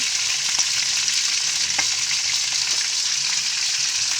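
Fish frying in a pan produces a strong, continuous hiss of hot oil, with a few faint clicks and taps as the pieces are turned over.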